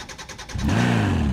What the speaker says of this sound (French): on est là pour démarrer la voiture.